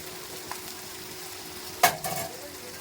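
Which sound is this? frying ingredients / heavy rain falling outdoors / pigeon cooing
frying ingredients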